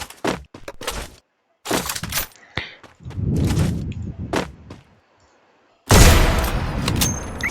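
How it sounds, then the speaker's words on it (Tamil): Gunshot headshot effects from the Free Fire Max mobile game: several sharp, loud bursts in quick succession with short gaps, ending in a long heavy blast. "மண்டை ஷாட் கொடுக்கும் போதெல்லாம் வேறு லெவலில் சவுண்ட் எஃபெக்ட் இருக்குது"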